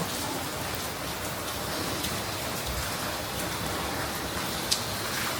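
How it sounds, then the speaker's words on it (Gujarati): Steady rain falling in Ahmedabad, a dense continuous hiss of drops on surfaces, even and moderately loud throughout with no voices. "મસ્ત આવે છે વરસાદ."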